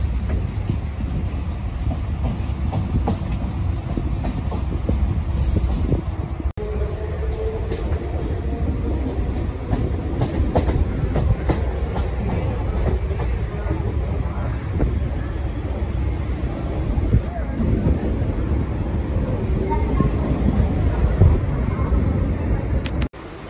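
Chennai EMU local train running on the tracks between Chennai Beach and Avadi, heard from on board as a loud steady rumble with rhythmic wheel clatter and occasional squeals throughout.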